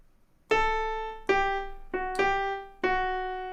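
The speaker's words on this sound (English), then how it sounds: "So it sounds like this on the piano." Five piano notes of a melody are struck one after another at an unhurried pace, each ringing out clearly and decaying before the next, heard alone in a quiet room.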